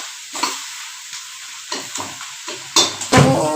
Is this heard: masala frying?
yes